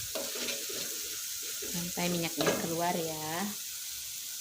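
Ground spices stir-fry in oil in a pan until the oil separates, producing a moderate, continuous sizzle with stirring scrapes; a voice speaks briefly over the cooking sounds midway.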